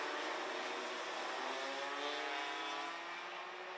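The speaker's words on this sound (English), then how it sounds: "someone's got a noisy exhaust to boot" A race car with a noisy exhaust during a motor race, a steady, droning engine roar that holds constant and stays fairly distant and faint throughout, with no talk over it.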